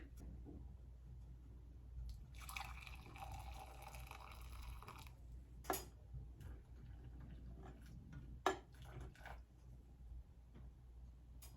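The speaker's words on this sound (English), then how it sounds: "So I'm going to pour this over the sink." Potato cooking liquid pours briefly into a sink, a soft splashing stream over a low background hum, followed by a few faint clicks and knocks.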